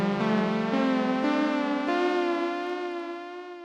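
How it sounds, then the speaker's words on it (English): A synth played through a Julianna chorus/vibrato pedal with a sine wave LFO gives a sustained, harmonically rich tone that swells and gently wavers, with a few note changes, then slowly fades. "Yeah, so that's a really lush chorus"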